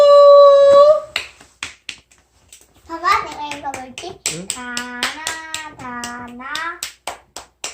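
A young child learning Korean letters claps hands a few times in quick succession amid a woman's sing-song voice, with short sharp snaps between stretches of talk close to the microphone.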